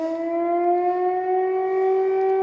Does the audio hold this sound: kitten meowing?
no